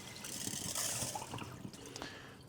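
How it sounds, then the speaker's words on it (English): Water drained off rinsed rice into a sink, a close, continuous splashing pour that tapers into trickles and drips. "so I'm going to dump off the water"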